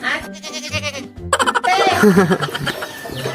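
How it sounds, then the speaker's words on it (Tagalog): A goat at an outdoor 81st birthday gathering lets out loud, wavering bleats close by, mixed with people laughing and chattering around it. "Ito pala yung kambing eh."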